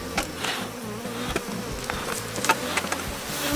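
Honeybees drone around an open, strong colony in a hive smoked a little, a close, continuous buzzing with individual bees swelling past the ear now and then.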